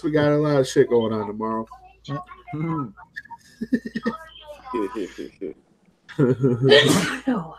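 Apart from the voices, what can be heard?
sneeze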